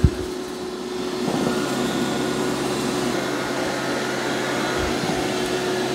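An eufy X9 Pro robot vacuum and mop cleans a floor with a steady, loud motor whir and a constant tonal hum that runs the whole time without pause, with no voices.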